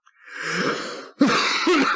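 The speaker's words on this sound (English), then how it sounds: "every time there's a lull in the conversation, I cough" Two harsh, throaty coughs close to the microphone, the first drawn out, the second sharper and rougher.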